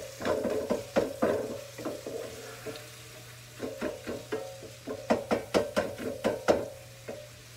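Sausage browns in a pan for baked ziti, with a faint sizzle beneath a series of sharp, rhythmic scraping and tapping strokes from a utensil, bunched into two bursts with a pause between.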